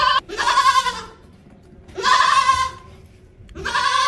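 A heavy meat goat with a freshly sheared coat bleats loudly and close by, three long wavering calls spaced about a second apart with quiet gaps between them.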